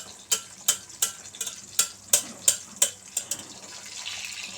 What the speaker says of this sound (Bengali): চামচ দিয়ে তুলে তুলে তেলগুলো ডিমের গায়ে দিয়ে দেবেন।